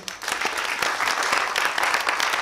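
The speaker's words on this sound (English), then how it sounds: "can we give a big round of applause for Fuzzy Times?" Applause from a quiz show audience in Mumbai for the runner-up team, a brisk, dense round of many hands clapping close and loud for a couple of seconds.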